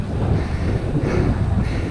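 A steady headwind roars against the microphone on a long road bike ride through Snowdonia, a dense, low rushing buffet that continues unbroken and close.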